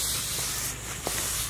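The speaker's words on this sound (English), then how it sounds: "run out of spray" Aerosol can spraying in a continuous close, loud hiss for about a second and a half with a brief pause in the middle.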